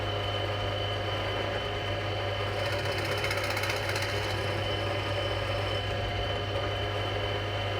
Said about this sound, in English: So we've now drilled down to the stop. I'll do a few holes.